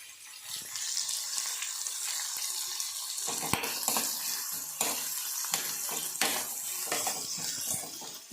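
Onions fry in a pan while being stirred, heading toward brown for a madaki kaal palya: a hissing, watery sizzle broken by a few sharp scrapes and knocks.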